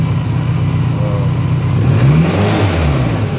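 A steady BMW K1200 motorcycle engine runs close by, then its pitch rises and falls as it revs up once over a constant mechanical drone.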